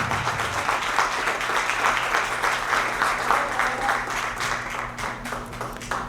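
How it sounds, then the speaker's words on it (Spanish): A congregation at a church service applauds steadily and strongly, a thick wash of many hands clapping at once, with a low electrical hum running underneath. "denle un aplauso si es para el Rey de Reyes y Señor de Señores"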